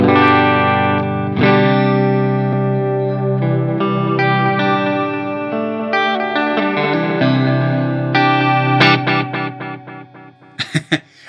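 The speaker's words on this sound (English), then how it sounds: "next in the signal chain is the Nemesis Delay" Distorted electric guitar chords and notes ring out through a Nemesis Delay pedal, repeats trailing and smearing together, ending in quick stabbing echoes.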